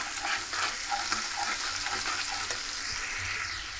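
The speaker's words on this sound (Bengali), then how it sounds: "ভালো করে কষিয়ে নেবো।" Spice paste being stir-fried in a pan with fried ginger for a vegetarian cabbage dish, a steady close sizzle with scraping stirs and faint clinks running throughout, no voices.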